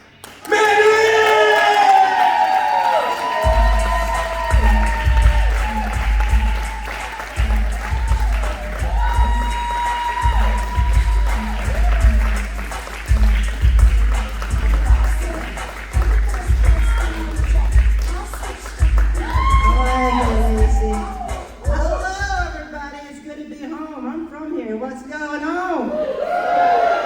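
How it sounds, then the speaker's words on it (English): A comedy showcase audience cheers, whoops and applauds loudly and continuously, with a host's amplified voice talking over the crowd noise before it fades out. "Please cheer like you just won the big bet."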